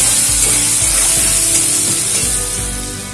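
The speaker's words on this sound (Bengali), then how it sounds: "এবারে আলুটাকে একটু ভেজে নেব" Loud, dense hiss of potatoes with turmeric and salt frying in hot oil, constant and close, with a few soft knocks underneath.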